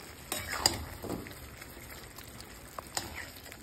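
Marinated chicken frying with spices in a pan: a faint, low sizzle broken by a few sharp clicks and scrapes of stirring.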